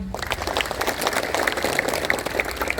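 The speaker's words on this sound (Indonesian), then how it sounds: "Untuk marching band kita tepuk tangan." Crowd clapping for a school marching band during a morning flag ceremony at SMKS Dharma Pertiwi, with continuous, even applause filling the whole stretch at moderate volume.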